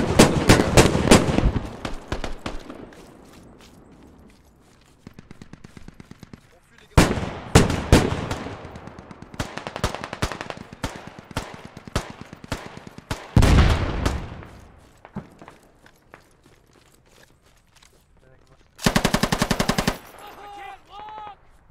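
Bursts of automatic gunfire in the military shooter game Squad, loud, close rapid volleys in several clusters with quieter gaps between, ending in a sharp burst.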